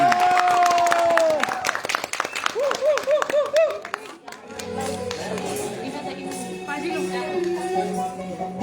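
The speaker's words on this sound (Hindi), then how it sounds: "तालियों के साथ उनका स्वागत कीजिए।" Audience clapping to welcome a dancer about to perform a Ganesh Vandana, mixed with crowd chatter and cheering over loud music, the applause fading as a devotional song begins.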